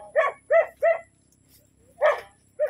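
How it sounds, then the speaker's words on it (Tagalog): A dog barks three times in quick succession, pauses, then gives two more barks, fairly close and loud with no talking. "May aso dito."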